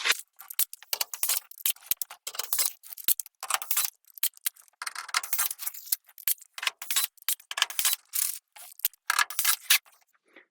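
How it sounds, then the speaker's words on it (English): Rivet nuts being set into enlarged holes in a Sprinter van floor: rapid bursts of ratcheting, crunching tool clicks repeat in uneven clusters, close and fairly loud, with no talking. "we're going to set a rivet in each one of these holes that we've enlarged."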